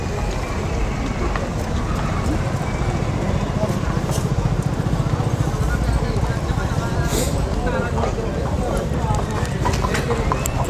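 Horses at a busy Punjabi horse market in Muktsar, with steady hoof clip-clops on hard ground blending into crowd noise and passing traffic, while people talk nearby throughout.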